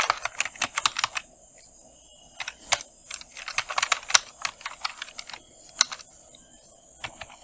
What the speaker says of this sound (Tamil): இப்போ நம்ம வந்து டைப் பண்ணிவிட்டோம்.